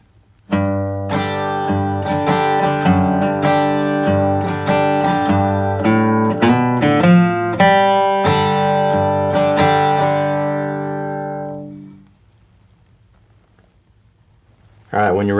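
An acoustic guitar plays a traditional bluegrass G run variation, a lively string of picked notes and quick runs, close and unaccompanied, before the final chord rings out and dies away.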